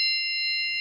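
A short electronic alert tone from the Aljadwal timetable app rings out as a clean, sustained ding that holds steady for under a second.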